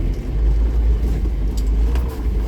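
A car on Yokohama Geolandar A/T G015 215/65 R16 tires drives with slight wheelspin, a steady close low rumble of engine and tires running continuously with no talk.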